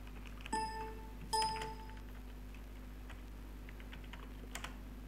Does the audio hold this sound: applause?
no